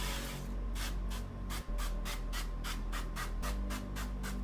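Cooking spray misted onto a waffle maker in a home kitchen while making jalapeno waffles: a series of short, regular hissing bursts, roughly a dozen in quick rhythm, close and steady over a faint background hum.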